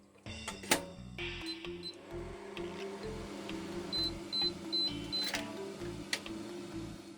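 A microwave heats mochi: a door clunk and button beeps at the start, then a steady low hum of the running oven with a few faint clicks and a repeated series of short high beeps.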